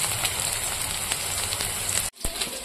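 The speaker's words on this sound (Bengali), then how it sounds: "আলুটা ভাজা হতে হবে।" Potatoes frying in a pan give a steady crackling sizzle close by, with a brief sharp dropout and clatter near the end.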